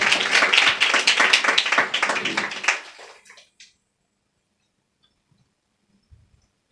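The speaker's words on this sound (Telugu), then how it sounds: "చప్పట్లు కొట్టి ప్రభువును ఘనపరచుదుము గాక" A church congregation at a Christmas service claps together in a loud, dense burst lasting a few seconds, then trails off into near silence.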